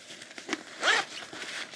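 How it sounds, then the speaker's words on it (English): A small zipper on the pocket of Reindee Lusion waterproof techwear cargo pants is pulled once in a quick, close rasp. Faint handling rustle surrounds it, and no one speaks. "There's a big pocket here, but it also has that little zipper"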